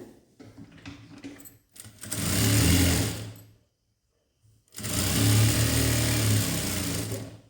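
Sewing machine stitching fabric while joining a hook-side and V-shaped strip, running in two loud, steady bursts of about two seconds each with a short pause between them and no talking.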